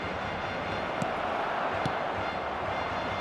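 Stadium crowd in the eFootball 2025 video game during a Barcelona vs Real Madrid match: a steady dense roar of a large crowd with a couple of faint sharp knocks.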